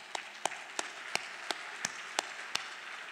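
Applause at an anniversary celebration comes through as about eight slow, evenly spaced claps, sharp and distinct but faint and distant, with a quiet room murmur between them.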